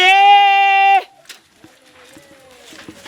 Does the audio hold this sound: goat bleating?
yes